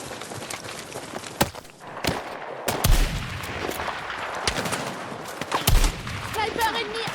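Rapid gunfire in the Battlefield 6 campaign, with repeated sharp shots and short bursts against a dense rumbling battlefield backdrop, some close and loud, others more distant.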